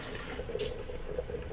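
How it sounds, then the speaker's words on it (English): A cup of water poured into a pot of cheesy pasta sauce, a short, gentle splashing trickle with a couple of brief brighter splashes, close and fairly quiet. "I'll add like a cup of water to this one."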